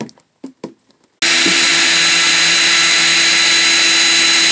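A power tool drilling holes in a mantis cage starts abruptly after brief talk, then runs as a loud, steady high-pitched whir with no letup.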